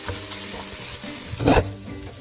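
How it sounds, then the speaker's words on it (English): Crispy browned bacon for mac and cheese sizzles steadily in a pan, with a brief louder scrape of a utensil near the end, close and continuous. "now that the bacon is crispy and browned, you can remove this from the heat momentarily"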